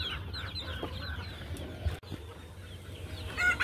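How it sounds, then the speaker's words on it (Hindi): Golden Misri chicks and hens mixed with desi chickens cluck and chirp softly, close by, over a steady low rumble, with a brief thud near the middle and a brighter chirp toward the end. "इसमें गोल्डन मुर्गी के चूजे हैं जो ना वो थोड़े हैं, बाकी और देसी मुर्गी है।"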